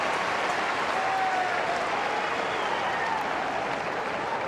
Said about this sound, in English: The crowd on their feet to applaud that audacious drop shot and pass that has taken Agassi to 6-5 final set.